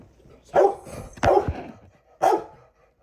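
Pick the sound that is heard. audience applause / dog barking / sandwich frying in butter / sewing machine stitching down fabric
dog barking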